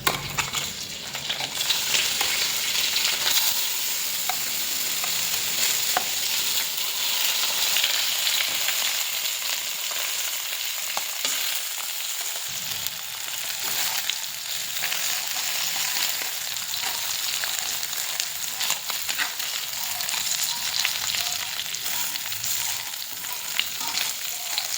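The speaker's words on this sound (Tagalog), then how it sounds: "Ang sunod ko nga palang ginawa dito ay ginisa ko na yung manok." Chicken sautéed in a pot sizzles and fries steadily throughout, a loud, close crackling hiss with occasional stirring scrapes and no voices.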